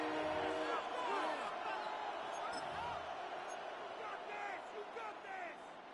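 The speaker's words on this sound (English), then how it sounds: "The Buffalo crowd being heard before third down." Broadcast of an American football game in the video game Madden 26, with a steady roar of the Buffalo stadium crowd throughout and commentators talking over it.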